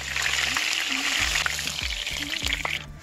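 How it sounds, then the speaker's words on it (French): Chicken pieces fry in hot oil with a close, continuous sizzle and crackle, broken by a few soft clinks and small movements in the pan. "je vais faire frire chaque côté et dès que c'est bien doré"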